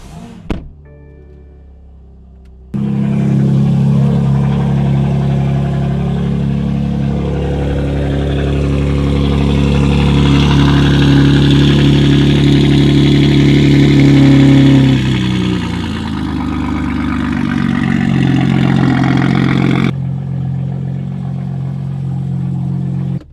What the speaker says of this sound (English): A cold startup for you guys here.